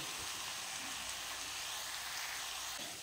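Mutton mince fries in hot oil with ground spices, a dense, steady, close sizzle that holds at constant loudness throughout.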